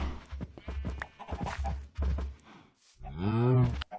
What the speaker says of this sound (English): Get your moo over here.